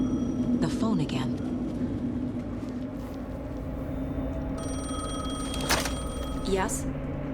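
In the video game Alan Wake 2, a telephone rings in a few short bursts over a low, constant ambient hum, loudest near the end.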